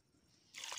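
Water poured into a cooking pot (deckchi) holding chicken skin and spices, starting as a sudden close, loud splashing rush midway after a quiet lead-in.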